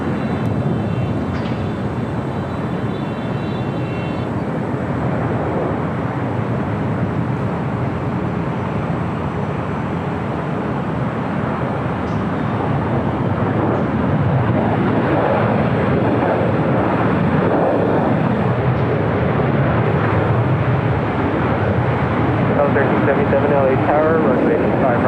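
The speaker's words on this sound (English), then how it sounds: "Next arrival here on the south side is Delta Airlines Flight 753 coming from Atlanta." A Delta Airlines A321 arriving from Atlanta on the south side at LAX gives a broad, steady jet roar that swells slowly over the clip, heard at a distance with a commentator speaking throughout.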